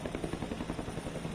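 A helicopter sits at an airport helipad in the Philippines, its rotor thudding in a steady rapid beat over a constant engine whine, sustained and moderately loud with no voices.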